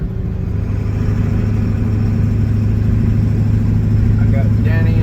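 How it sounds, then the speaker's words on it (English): A car engine running at low speed, a steady loud drone with a strong low hum heard from inside the vehicle, unchanging for several seconds with faint talk near the end. "This car is driving entirely too slow this morning."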